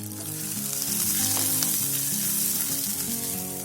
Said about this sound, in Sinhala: මේ ඔක්කොම තෙලෙන් බැදෙද්දී